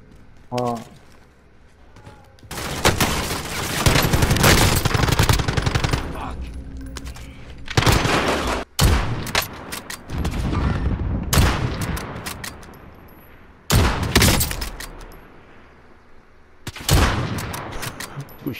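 Rapid automatic gunfire from Call of Duty Warzone rattles in several loud, close bursts separated by brief pauses, with a short sharp report between them and players talking over the action.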